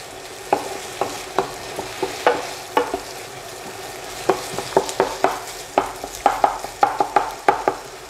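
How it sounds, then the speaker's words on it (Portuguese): Sausage fries in a pan as a utensil scrapes and stirs it, giving repeated sharp clacks at an irregular rhythm over a steady low sizzle, close and fairly loud, with no talking. "E vamos ter que fritar bem essa linguiça, tá?"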